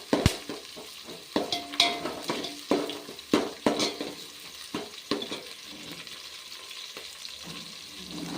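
Curry leaves dropped into hot oil in a pan, with a quick run of crackling pops and spoon clatter against the metal, then a continuous softer sizzle; no voices.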